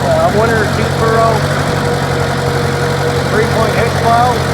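A Ford 860 tractor engine runs steadily while plowing a field with International plows, a loud close low rumble throughout, with someone talking over it.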